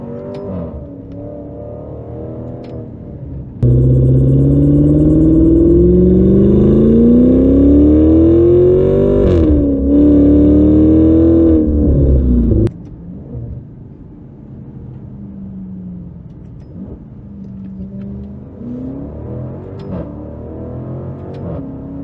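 A deep, throaty V8 engine of a Maserati Levante V8 SUV idles, then revs hard in manual mode and holds high rpm with rising and falling pitch before dropping back to a rumbling idle.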